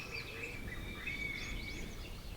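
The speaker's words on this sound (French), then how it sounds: "On entend les oiseaux." Birds chirp and trill faintly in a quiet bamboo grove in Shikoku, Japan, thin high calls repeating over soft low background noise, with no voices.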